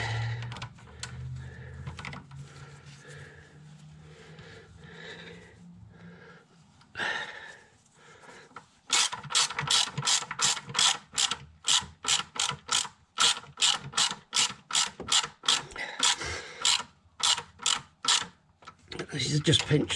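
A hand ratchet spins bolts down on a 2015 Kia Sorento, its pawl clicking in quick, rapid bursts between short pauses, close up and crisp, with quiet mumbling voice and handling noise earlier on.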